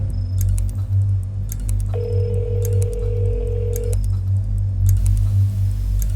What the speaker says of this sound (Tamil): ஃபோனு ரிங் போது கொஞ்சம் வேகமாக எடுத்தாங்கன்னா நல்லாயிருக்கும்.